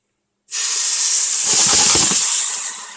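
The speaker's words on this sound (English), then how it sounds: "So I just added the onion mix to the hot pan." Onion mix drops into a hot pan of spices and sizzles loudly: a sudden steady hiss that bursts in, stays intense for a couple of seconds with some bubbling crackle, then begins to ease.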